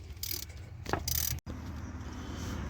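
A ratchet wrench tightening the water pump bolts on a 2004 Chevy Silverado, heard as short bursts of clicking ratchet and metal mechanism sounds, close and fairly quiet, with a brief pause near the end.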